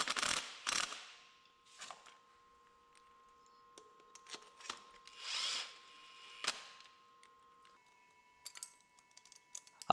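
Bolts being tightened on a Yamaha XS750 motorcycle during restoration, short bursts of ratcheting and power-tool whirring separated by quiet gaps, close by, no talk.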